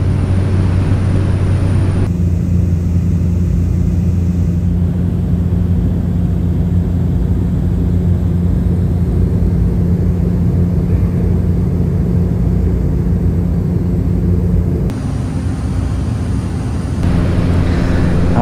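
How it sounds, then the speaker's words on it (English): Steady, loud cabin drone of a Cessna Caravan in flight over Arkansas, a constant low engine and propeller hum with strong tonal bands that runs unbroken, with brief shifts in tone near the start and end. "I just love flights on the Cessna Caravan."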